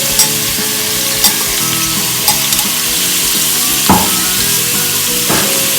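Chopped pumpkin and green chilies frying in a pan for a sabzi, with a steady, close sizzle and a few scraping and clinking sounds as the vegetables are stirred; no talking.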